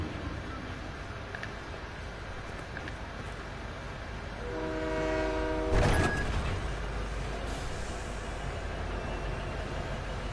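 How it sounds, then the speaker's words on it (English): A train in the Fortnite video game rumbles close by, sounding a brief loud horn blast midway through a steady rolling, clattering drone. "I've never been this close to the train."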